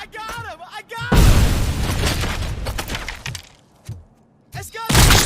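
A grenade in a RoboCop shooter game goes off in a loud, crackling burst of debris lasting a couple of seconds. Shouting voices and sharp gunfire surround it, and a second heavy blast hits at the end.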